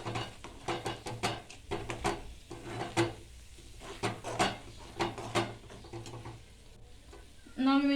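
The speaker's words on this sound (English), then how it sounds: "we will mix it properly so that the ingredients will mix with each other" Onion gravy ingredients being stirred in a pan, with a series of scraping, rhythmic strokes over a steady sizzle of frying, close and fairly loud, ending with a brief clatter.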